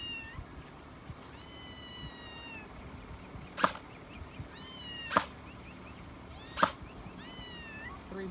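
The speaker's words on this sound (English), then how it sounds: "So let's try that with the meowing kitty over here." A cat meows repeatedly in a rising, wavering pattern outdoors at a target range, fairly faint against a quiet background, with three sharp, loud cracks of an E&L AK105 airsoft rifle firing at intervals between the meows.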